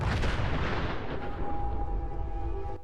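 In Fallout 4, a RAM 7 underbarrel 40mm grenade launcher fires, a loud booming blast that rolls into a long fading rumble, with a faint tone lingering behind it.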